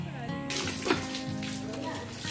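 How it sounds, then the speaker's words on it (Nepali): Tap water running over hands at a campus outdoor tap during a World Environment Day plantation event, a steady splashing wash that starts about halfway through, with voices talking nearby over it. "कलको पानीले हात धुँदै हुनुहुन्छ"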